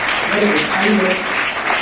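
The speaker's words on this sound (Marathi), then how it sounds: "प्रथमेश साठी एकदा जोरदार टाळ्या झाल्या पाहिजे" Students applauding at a school science event, a dense continuous patter of clapping with a voice speaking over it.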